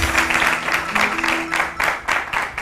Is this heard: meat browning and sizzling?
no